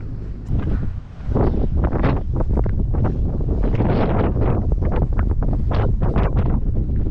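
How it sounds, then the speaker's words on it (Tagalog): Strong wind buffets the microphone in a continuous roaring rush, with gusts surging louder and softer throughout. "grabe yung hangin"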